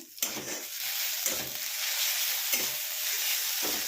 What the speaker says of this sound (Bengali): এইভাবে ভালো করে ভেজে নিতে হবে।